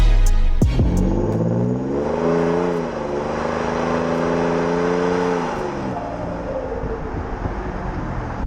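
A 2005 Range Rover Sport pulls away from a pub car park, engine rising through gears with a clear revving drone that swells then eases back to a cruising hum, close and loud with no talking.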